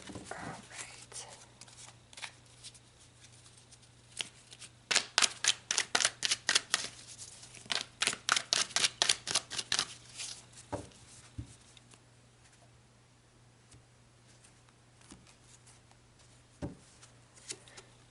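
Tarot cards are handled and shuffled up close, with rapid riffling flutters in two busy bursts between quieter rustles and single card taps, over a low steady hum.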